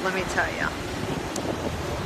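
Ocean surf at Pensacola Beach in Florida, a broad steady wash of waves mixed with wind buffeting the microphone, while someone speaks over it.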